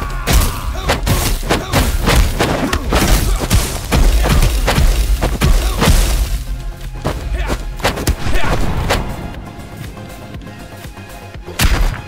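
Loud flintlock pistol shots and heavy booming impacts in the Midnight Fight Express video game, a dense run of sharp blasts over the first half, thinning to scattered thuds and a final burst.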